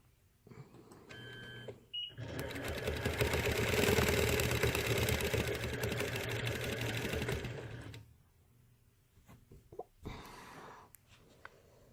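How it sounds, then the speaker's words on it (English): An embroidery sewing machine stitches out a bird bracket design, its rapid, steady mechanical whir running loudly for about six seconds after a few short clicks, then stopping into quieter handling sounds and a brief burst. "Let me stitch that out of the way so you can see how that looks."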